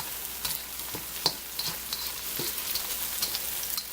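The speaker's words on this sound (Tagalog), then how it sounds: "Luto ako ng pansit" Pancit noodles cooking in a pan, a steady close sizzle with light stirring scrapes and occasional sharp taps of a utensil against the pan, no talking.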